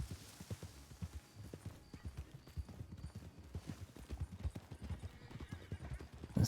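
A startled horse outdoors clatters its hooves in quick, uneven beats that go on throughout, with a whinny mixed into the stamping. A person may speak faintly beneath it.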